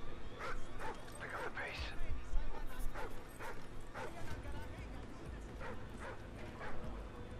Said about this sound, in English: Oh shoot, a dog.